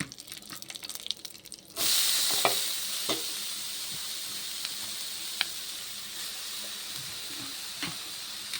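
Grated carrots for carrot halwa hit a hot pan and burst into a loud sizzle that then settles into a steady fry, with scattered taps and scrapes of stirring nearby.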